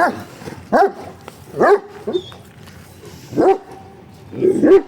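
A dog barks in short bursts, four or five sharp yaps spaced about a second apart, close by, with faint voices underneath.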